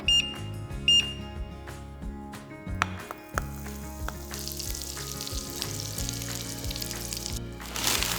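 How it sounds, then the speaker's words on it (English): A good slice of butter melting in a hot pan, sizzling and crackling steadily up close, the frying hiss growing denser and louder toward the end, with a few high beeps early on. "heat a pan and melt a good slice of butter"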